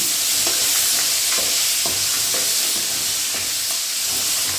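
Ripe tomatoes frying in oil for a village-style tomato chutney, a loud continuous sizzle broken by regular scraping strokes as they are stirred and turned.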